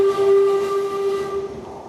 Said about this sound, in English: The platform is packed with Tottenham fans as the train full of Arsenal fans pulls in.